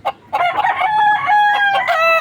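A young pure SBR gamecock rooster crows in a backyard, one loud, close, drawn-out cock-a-doodle-doo with a short broken start, heard alone without talk.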